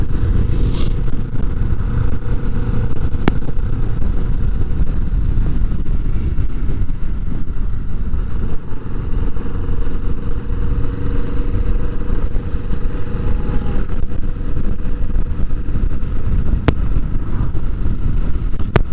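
A 2020 Kawasaki Vulcan S motorcycle is ridden on an open road in Australia, its engine a steady loud drone mixed with wind rush that holds throughout without speech.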